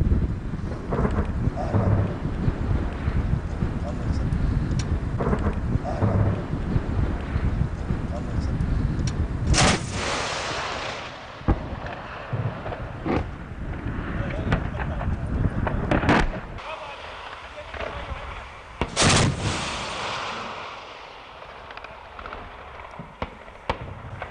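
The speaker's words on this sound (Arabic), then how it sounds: "ونتابع كيف يتم انفجار أحد مستودعات الأسلحة والذخيرة للمجموعات الإرهابية" Weapons and ammunition depot exploding near a pharmaceutical factory in Kafr Aya, Syria: loud, rumbling blasts with sharp broadband bursts near 9.5, 16 and 19 seconds over continuous roaring noise, heard from a distance.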